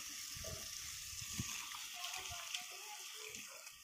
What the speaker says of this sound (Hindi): देखो यहाँ पे पानी भरने का प्रोसेस चालू है, पानी भर रहा